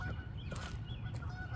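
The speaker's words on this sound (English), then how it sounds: "Geese? They're way over there." Geese honking in the distance on a March day, a few faint nasal honks over a steady low background rumble.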